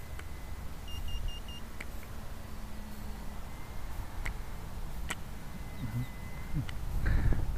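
Repeated short electronic beeps from low-battery alarms on RC transmitters at an outdoor RC flying field, sounding in a small rhythmic series over steady wind and background noise.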